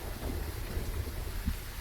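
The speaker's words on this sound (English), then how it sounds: "So it's a heavy rain." Heavy rain in the horror video game Phasmophobia, outside the Willow Street house, a steady dense downpour with low rumbling, no voices.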